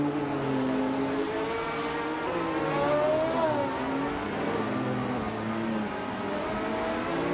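Race cars in a racing video game, among them a 1982 Ford Mustang, roar continuously with rising and falling engine tones as several cars run close together, steady and loud with no talking.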